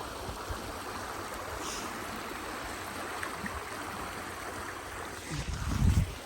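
Stream water flowing beside an outdoor running trail, a steady faint rushing wash that stays even throughout, with a brief low rumble near the end.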